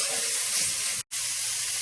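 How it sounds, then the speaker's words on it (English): Yellow curry with garlic, spring onion and parsley frying in a pan, giving a steady close hiss and sizzle that cuts out abruptly for a moment before resuming. "So this is known as frying the curry."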